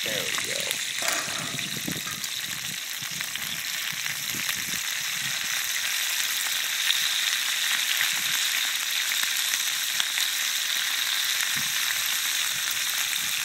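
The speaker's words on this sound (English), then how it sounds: "we got our peppers and onions in our pan. A little bit of oil in the bottom there" Peppers and onions fry in a little oil in a pan, a steady bright sizzle close up that runs continuously, with brief stirring or handling noises early on.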